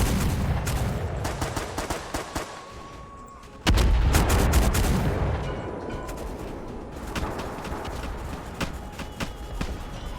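Gunfire in a Roblox Dead Ahead naval battle game, with dense bursts of shots and booming blasts that jump suddenly louder midway, then continue as a steady rattle of distant fire.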